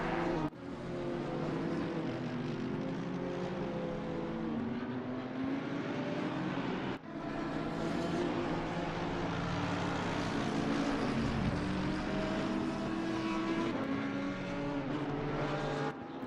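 Mercedes-AMG race car number 404 in a racing video game at the Nürburgring, its engine droning loud and steady from onboard with rising and falling revs and a sharp gear-shift break partway through.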